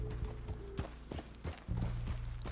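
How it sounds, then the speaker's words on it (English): Horse hooves clip-clop in Red Dead Redemption 2, a steady run of close, fairly loud hoof beats on the ground with a brief lull near the middle and no talking. "So here I can hitch my horse."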